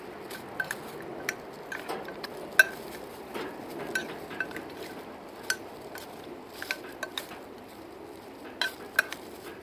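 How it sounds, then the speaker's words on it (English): Smoked meat being stirred in a pot with kelp, with soft scraping and scattered light clinks and taps of utensil against the pot, close and fairly quiet, no talking. "Give it a little stir."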